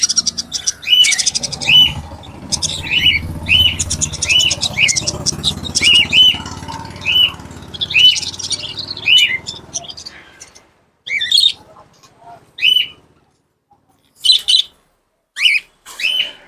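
Birds in a pet shop where fantail pigeons are kept give repeated short high chirps in quick bursts, loud and close, with a low murmur of background noise under the first half and silent gaps between calls later.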